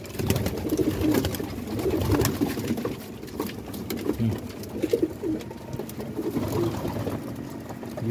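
Pigeons, including breeding hens, cooing in a loft at feeding time on a rainy day in Dubai, with repeated low throaty coos and soft rustling, fairly close and continuous.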